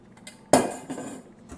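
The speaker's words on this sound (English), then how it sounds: "So let's start by dumping in our bacon." Bacon dumped into a mixing bowl for hamburger patties lands with one sudden clattering thump, followed by brief rustling and faint bowl knocks.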